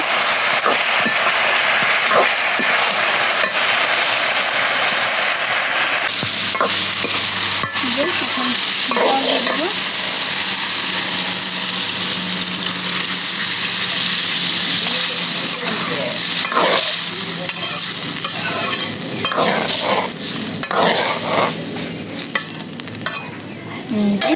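Eggplant curry sizzles and hisses loudly in a pan as water is poured in, with steady stirring and scraping throughout and a brief low rumble partway through.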